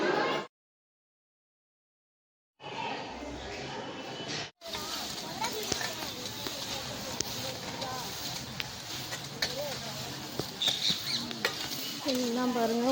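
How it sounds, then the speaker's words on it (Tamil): Rain falls at a temple in Kumbakonam during a volunteer cleaning work day, a steady patter and hiss that fills the scene after a short silence, with voices speaking faintly underneath. "மழை பெய்யுது, உங்களுக்கு தெரியுதாங்க?"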